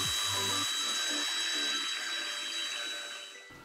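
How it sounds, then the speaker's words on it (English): A center drill cuts a starting hole in the surface-hardened casting of a Precision Matthews mill. It gives a steady high-pitched whine that tapers off toward the end, preceded by a few brief low knocks. "then a center drill was used create a starting hole for the M8 tapping drill."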